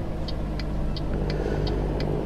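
A truck engine in American Truck Simulator runs at a steady low idle, a constant rumbling hum under a regular ticking click that repeats about every third of a second.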